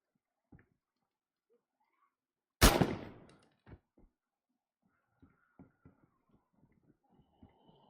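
A single loud gunshot cracks out in a zombie shooter game, its echo tailing off, followed by scattered faint clicks and small taps.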